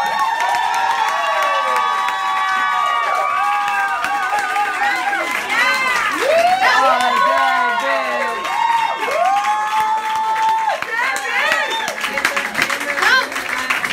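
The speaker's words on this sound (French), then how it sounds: "Levez-vous debout, applaudissez-vous!" A standing audience at a cooking event cheers and applauds, loud crowd whoops and shouted voices layered over continuous clapping throughout, with children's shrieks rising above the din.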